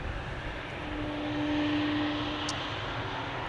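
An airliner at Amsterdam Schiphol Airport gives a steady, moderately distant engine rumble with a faint sustained whine, holding at an even level throughout with no talk.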